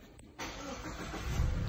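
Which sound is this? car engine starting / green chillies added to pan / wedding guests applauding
car engine starting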